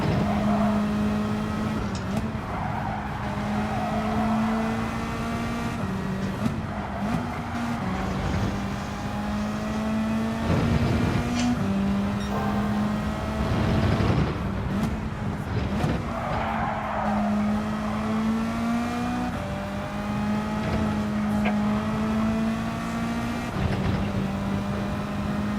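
Race car engine in Gran Turismo 7, a continuous high revving drone with pitch sweeping up and down through gear changes, mixed with tire squeal as the car corners, loud and constant throughout.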